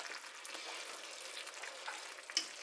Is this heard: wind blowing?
no